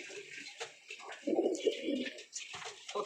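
Pigeons kept in a home loft coo in low, throaty bursts close by, with a strong swelling coo in the middle and lighter bird chatter around it.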